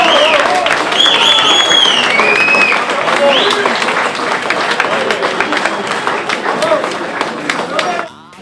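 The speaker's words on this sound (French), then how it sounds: "Vous pouvez l'applaudir." Loud, dense applause from a crowd at a football club partners' evening honoring a gold medal recipient, sustained for several seconds with voices mixed in before cutting off abruptly.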